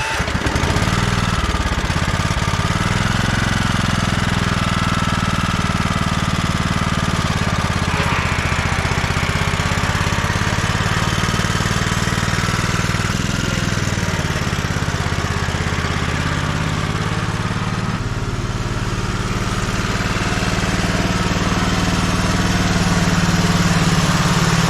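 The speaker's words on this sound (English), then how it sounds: "the engine is now not revving high enough" A 1999 Husqvarna LTH 130 lawn tractor engine runs continuously close by, a loud, rough mid-pitched drone with slight changes in speed, no voices over it.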